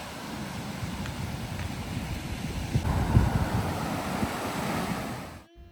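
Ocean waves and wind wash over a deserted beach on Gran Canaria, a steady roar of surf with wind buffeting the microphone, swelling briefly near the middle before it cuts off.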